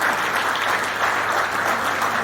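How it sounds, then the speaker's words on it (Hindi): An audience at a society's annual general meeting claps to approve proposals, a dense, steady wash of applause that holds evenly for its whole length with no voices on top. "एक बार तालियां बजाकर सारे प्रस्तावों को मंजूर करें"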